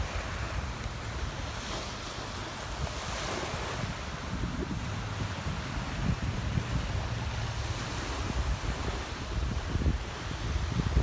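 Wind and surf on the seashore at Pandan, Bohol, Philippines: a steady, full roar of breaking waves with gusty wind buffeting the microphone, continuous and close for the whole stretch, with no talking.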